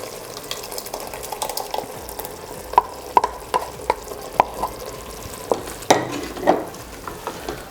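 White cashew-paste gravy going into a hot pan for a mushroom and capsicum curry, with a low simmering sizzle under a series of regular spoon scrapes and clinks against the pan, no speech.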